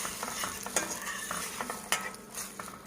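Menemen sauce seasoned with salt and black pepper cooks in a pan, with a soft constant sizzle broken by several quick spatula scrapes and stirs, close and without speech.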